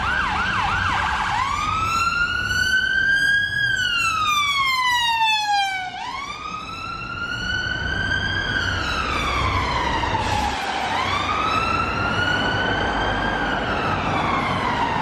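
Loud ambulance and police car sirens wail up and down in long, slow sweeps at Ealing Broadway, close by and continuous, with traffic rumbling underneath.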